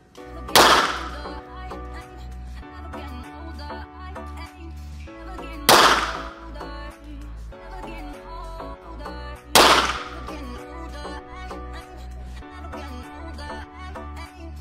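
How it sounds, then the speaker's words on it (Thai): Three loud, sharp pistol shots from an S&W MP9 ring out at a target range about 10 meters from the target, each spaced roughly four seconds apart, with a low steady hum between them. "เดี๋ยวเรามาลองยิงดูเป้ามาตรฐานนะครับที่ระยะประมาณ10เมตรนะครับ"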